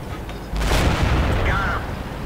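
Cannon fire from a Comet Tier VII medium tank in World of Tanks, shooting gold ammo into the back of a KV-5's turret: one sudden loud boom, then a dense rumbling roar that fades slowly.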